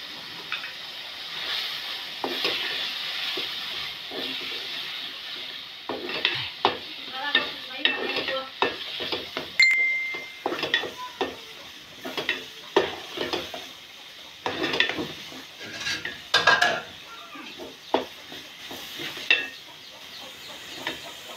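An egg frying in a pan alongside spiced, sautéed food, with a continuous soft sizzle and repeated scraping strokes of a spoon against the pan, closely miked, with no talking.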